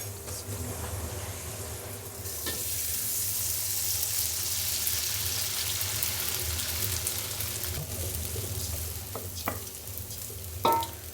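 Garlic frying in hot oil for a shrimp and egg biryani, a steady close sizzle with stirring and light utensil scrapes running throughout, with no talk.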